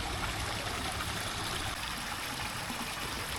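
Water from a newly filled garden pond trickles over rocks into a channel, a steady close broadband rush and gurgle with no pauses or voices.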